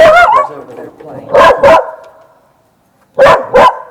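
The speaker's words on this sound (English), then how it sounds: "He barking at something going on over there across the street?" A dog on a front porch barks across the street in two quick pairs of loud, close woofs separated by a short silence, with a voice heard briefly at the start.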